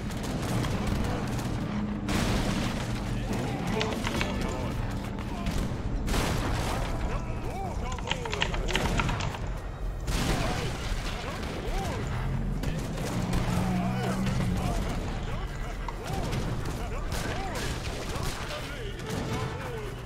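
Dense, continuous gunfire and volleys from musket and artillery units in the real-time strategy game Age of Empires 3, steady and loud across the whole stretch, with a voice urgently talking over the battle.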